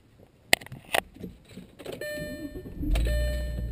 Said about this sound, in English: as you can see, it starts right up and idles perfectly